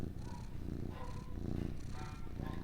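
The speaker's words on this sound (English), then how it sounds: "Y'all hear Sylvester purring? That means he's very happy." A pet cat purrs while being stroked: a close, steady, rhythmic rumble that pulses with each breath and continues throughout, with no talking.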